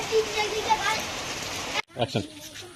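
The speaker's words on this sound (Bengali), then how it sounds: "বৃষ্টি পড়ছে" Steady rain hisses down for a couple of seconds, then cuts off abruptly and a voice speaks briefly.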